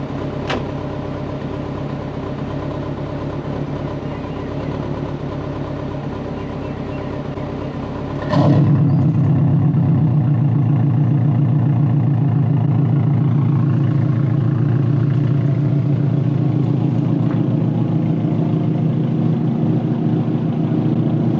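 Twin-turbo Subaru with a loud custom exhaust, idling with a steady low drone, then the engine revs up sharply and settles into a louder, deeper rumble that holds to the end.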